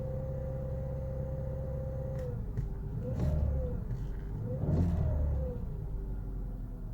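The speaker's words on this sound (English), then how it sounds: "Let's just hold the revs a little bit." At an auction, a car engine hums steadily, then rises in two revving swells before settling back to idle, with no one speaking.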